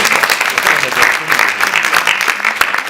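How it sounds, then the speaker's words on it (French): Brief burst of audience applause at a book fair talk, close and fairly loud with distinct individual claps, no speech over it. "Vous pouvez applaudir quand même."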